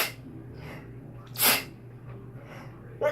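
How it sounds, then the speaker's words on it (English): A single sharp sneeze in a quiet room, preceded by soft breathing and followed by a brief snort-like sound near the end. "I always sneeze 3 times, and it's in my shirt"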